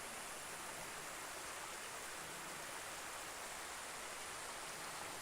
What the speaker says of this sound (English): You got the waterfall on the other side over here